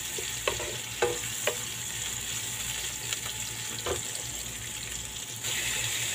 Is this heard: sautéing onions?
yes